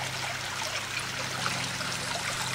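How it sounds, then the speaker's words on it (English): Water circulates through a garden pool biofilter filled with gravel, a steady close trickling and splashing with a low hum beneath, continuous and without speech. "The water circulates."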